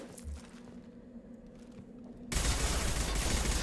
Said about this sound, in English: gun shoots terrible. Okay, burst fire.